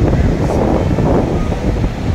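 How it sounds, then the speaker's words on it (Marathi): Fairly large ocean waves break and wash at Marina Beach in Chennai, a loud, continuous roar of surf mixed with heavy wind rumble on the microphone, with no talk. "बऱ्यापैकी मोठ्या लाटा आहेत"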